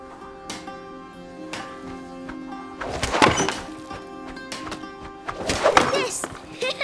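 Sling stones from A Plague Tale: Innocence striking targets in a shooting challenge, two sharp hollow thunks about two seconds apart, each ringing over a steady musical background.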